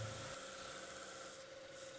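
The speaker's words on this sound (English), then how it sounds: "and then polish it off at high speed." A cloth buffs the outside of a wooden jewelry box at high speed on a spinning machine, giving a steady, continuous rubbing whir with a constant hum, fairly faint and without talk.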